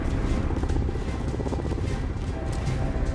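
A helicopter in the Call of Duty: Modern Warfare video game gives a steady, dense rotor thump and engine roar that fills the whole stretch at an even level.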